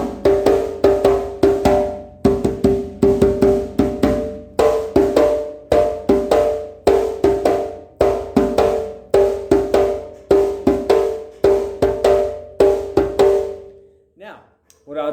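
A drum groove for the Latin tune Mamaya, played as a practice part, with steady rhythmic hits and ringing pitched tones repeating for about fourteen seconds before stopping abruptly, loud and close.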